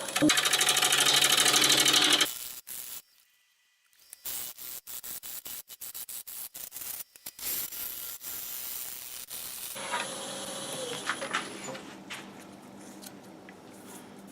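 A wood lathe turns a black locust end-grain vase at 750 RPM, starting with a loud, steady whir, then a brief lull before rapid chattering tool cuts and a continuous scraping hum.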